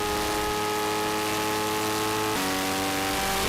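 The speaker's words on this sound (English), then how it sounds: "the Taiga goes by on Andretti Straight" A vintage race car at a Mosport vintage festival passing on Andretti Straight, its engine a loud sustained tonal drone that drops sharply in pitch partway through as it goes by.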